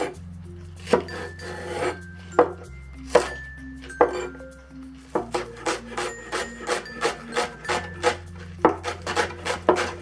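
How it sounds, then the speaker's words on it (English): A knife minces green onion on a board in rapid rhythmic chops, a steady series of crisp taps with a few slower strokes, heard close over soft background music. "let's mince the green onion"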